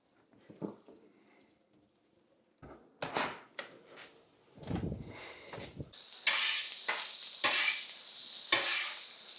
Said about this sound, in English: Got these on a low heat to kind of cook those onions just a little bit, not much.